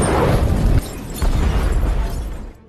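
A warehouse used as an illegal drug lab blows up in a film after an electrical short circuit, a loud, dense blast with rumbling debris that briefly dips, surges again and then fades into fire.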